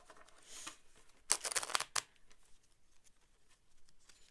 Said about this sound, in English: It's pretty fun shuffling these tiny little cards